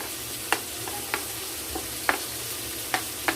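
Turmeric powder being stirred into a wet spice paste for a katla fish curry, heard as a few soft, evenly spaced scraping strokes of a spoon against the pan, close and quiet with no talking.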